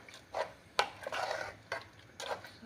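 A spoon stirs dal in a cooking pot, making soft scraping and clinking strokes: several short, quiet, irregular scrapes and taps, close by, with no talking.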